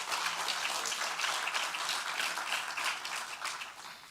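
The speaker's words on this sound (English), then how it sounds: "Can we give them a round of applause?" Guests at an education ministry breakfast applaud parents and guardians, a soft, dense patter of many hands that sounds somewhat distant and tapers slightly toward the end.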